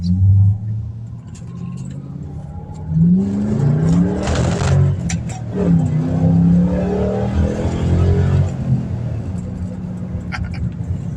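A Ford Mustang GT with a 3-valve V8 drives and revs, its deep engine rumble rising and falling through several throttle pulls, close and loud, while someone talks over it.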